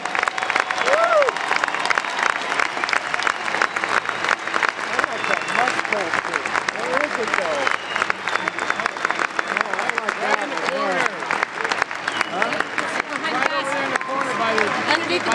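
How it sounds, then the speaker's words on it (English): A standing arena crowd at a university basketball game's farewell tribute gives sustained, loud, dense applause with cheers and whoops running throughout. "Ladies and gentlemen, please stand. Give one last round of applause."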